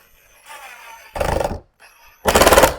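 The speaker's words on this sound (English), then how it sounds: "I'm going to change it out with these drywall screws" A power drill drives drywall screws into a wreath, producing two loud, rattling bursts of motor whir with a faint quieter spin between them.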